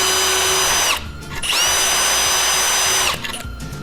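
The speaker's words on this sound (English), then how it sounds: "I'm going to drill right through this" A power drill whines loudly through a scrap of drywall in two bursts, the motor spinning up, running steadily for about a second each time, then winding down with a short pause between.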